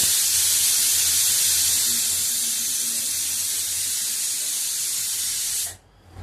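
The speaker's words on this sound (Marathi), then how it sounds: "कुकरच्या 4 शिट्या झालेल्या आहेत।" A pressure cooker cooking khichdi on a gas stove lets off a loud, steady hiss of escaping steam for several seconds, then cuts off abruptly into near silence.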